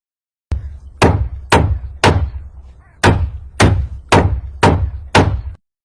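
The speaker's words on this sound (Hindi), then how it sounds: "क्योंकि रामगोपाल को मेहनत करने की आदत थी, तो वह जल्दी ही पहाड़ पर चढ़ गया और उसे तोड़ने लगा।" A hammer pounding mountain rock, nine heavy, close thuds with short booming decays, landing at a fairly regular pace with one slightly longer gap midway.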